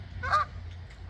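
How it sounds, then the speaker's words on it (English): A Canada goose gives a single loud, nasal honk, brief and fairly close, over a low background hum. "The Canadian geese."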